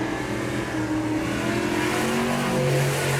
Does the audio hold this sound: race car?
yes